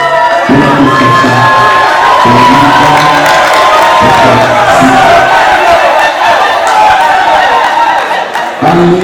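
Loud crowd at a school certificate ceremony cheering the children, sustained shouting, whooping and applause with excited voices throughout, close and dense.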